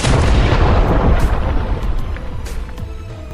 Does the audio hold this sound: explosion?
yes